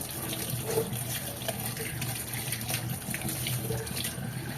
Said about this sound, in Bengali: এবার আটা আছে বলে ভালো করে এঁচোড়টাকে ধুয়ে নেব